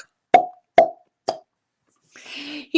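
A voice imitates a cork popping with three sharp, separate pops spaced about half a second apart, then a brief breathy rustle, in a children's book reading.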